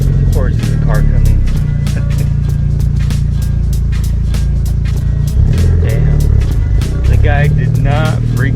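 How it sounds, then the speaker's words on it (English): A passing car's engine drones and rumbles loudly throughout, nearby and constant, with voices talking over it. "Of course, there's a car coming."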